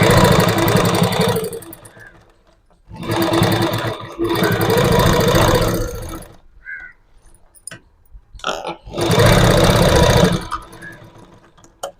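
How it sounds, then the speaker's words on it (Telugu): A sewing machine stitching cloth to a lining runs loud and close in three long bursts of steady whirring, separated by quiet pauses with faint handling clicks. "లోపల లైనింగ్ పై క్లాత్ రెండు కుట్టు వేసుకోవాలి"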